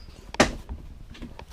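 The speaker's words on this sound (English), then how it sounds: "Then open the door back here." A car door being opened in a vehicle during a door speaker install, one short sharp latch-and-swing sound near the start, close by, followed by faint rustling.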